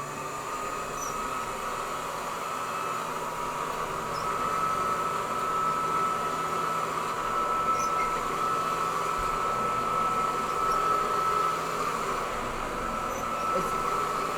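A Hoover model 28 vacuum cleaner with a weakly turning brush roll runs steadily, a continuous motor whine and hum holding at a moderate level throughout without a break.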